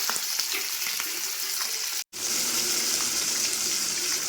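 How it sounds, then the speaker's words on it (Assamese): Fish seasoned with salt and turmeric frying in very hot oil gives a continuous, loud, close crackling sizzle, broken only by a momentary cut, with no voices. "এয়া পূৰা একদম গৰম তেলত মাছ উতলি আছে"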